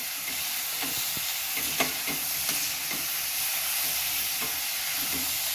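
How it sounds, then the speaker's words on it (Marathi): Chopped green tomatoes stir-fry in a pan, a constant close sizzle with scraping and clicking of a spatula at a steady rhythm, alone without voices. "हे देखील आपण 2 मिनिट छान परतून घेणार आहोत."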